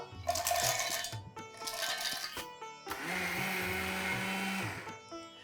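A blender grinds 1.5 cups of cashew nuts into fine powder for kaju katli, running in short close, loud bursts with brief pauses, then one longer steady whirring run before stopping.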